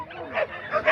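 A dog at the start of a canicross race gives a few short yips and barks over a roughly one-second span, close by and moderately loud amid crowd noise.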